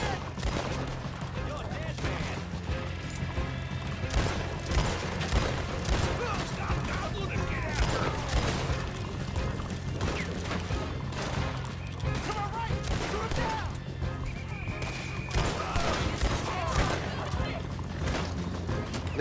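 Gunfire in the video game Red Dead Redemption 2 rattles through a dense, busy battle mix, with many sharp shots crackling over steady background noise.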